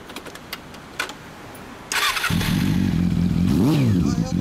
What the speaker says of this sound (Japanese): はい、こっちがエンジン音。